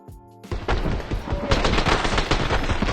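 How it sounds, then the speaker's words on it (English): Gunfire in the shooter game Escape From Tarkov, loud rapid bursts of automatic fire that break out after a brief quiet moment and keep rattling without pause. "suddenly they start shooting me because I'm suddenly in their face"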